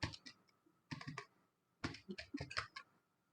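Keystrokes on a computer keyboard while HTML code is typed, coming in three quick bursts of close, crisp clicks separated by short pauses, with no voice.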